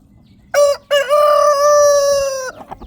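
A rooster crows loudly and close by as chickens come out of their coop, one long drawn-out call after a short opening note, with a few soft clucks at the end.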